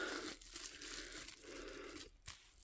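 A small plastic bag with bubble wrap, holding paint-by-number accessories, crinkles and tears in close bursts, with brief pauses between rustles.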